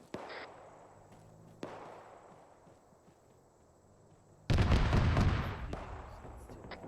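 Gunfire in the ArmA 3 military game: a couple of sharp distant cracks with fading echoes, then a loud, close burst of rattling fire that continues to the end.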